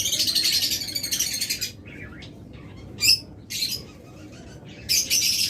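A pair of opaline budgerigars chirps and warbles in loud, busy bursts, with short pauses between phrases, close to the listener and with no voices.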